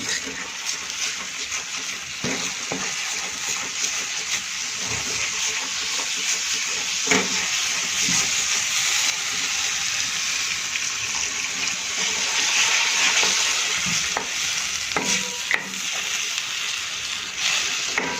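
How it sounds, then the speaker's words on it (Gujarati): Upma semolina and buttermilk are stirred in a pan over the gas, making a steady wet, bubbling hiss with occasional soft scrapes and knocks from the spoon throughout. "એટલે આ રીતે આપણે થોડી હલાવી લઈશું।"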